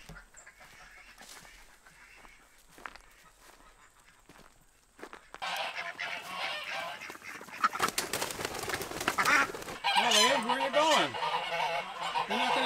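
Geese honk repeatedly and loudly, with wavering calls growing busier toward the end, over outdoor rustling and footsteps.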